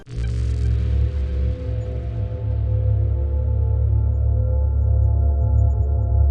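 A deep, sustained droning tone swells in with a burst of hiss and hangs heavily for several seconds, ominous and steady, an enemy spawn cue in the video game FNaC.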